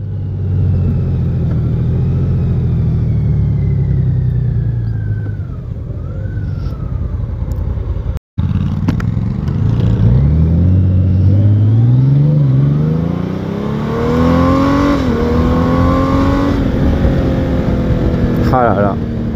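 A 2021 Honda Gold Wing 1800 DCT touring motorcycle accelerates in sport mode, its engine note climbing through gear changes with wind rush, while a rider talks over the sound throughout.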